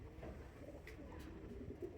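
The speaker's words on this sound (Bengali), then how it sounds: "তো এটা একটা জুনিয়র কবুতর, খুবই ছোট্ট, একেবারেই কম বয়সী।" A very young pigeon, a four-feathered juvenile, gives soft low coos close by, with a steady muffled background underneath.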